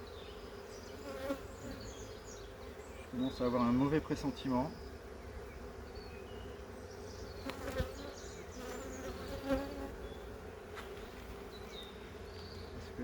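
Bees buzz around an open plastic beehive, a steady faint drone with a few louder passes close by, while someone speaks French quietly over it.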